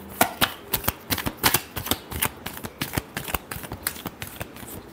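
A deck of tarot cards is riffled and shuffled in quick, crisp flutters and sharp snaps, close and distinct, repeating steadily with no speech.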